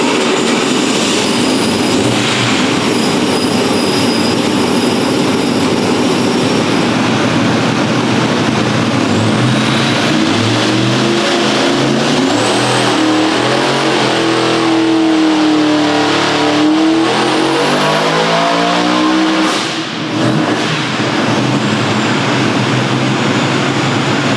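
A supercharged drag car of about 1,898 horsepower makes a loud, sustained full-throttle pull on a dyno. The engine roar climbs steadily in pitch, with mechanical whine and rumble throughout and a short dip near the end.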